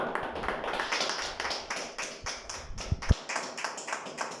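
A church congregation claps during a sermon, an uneven patter of hands with a few sharp louder claps near the end, fairly quiet overall and without speech.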